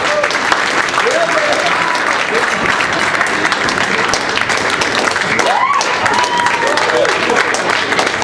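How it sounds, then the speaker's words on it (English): A comedy club crowd at Carolines applauds Senator Arlen Specter, steady loud clapping with cheers and a few whoops mixed in throughout. "Round of applause for Senator Arlen Specter, everybody"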